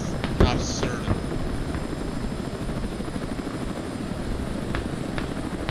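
A helicopter in the combat video game Squad, a steady rotor drone holding at an even level throughout, with brief clicks and bursts near the start.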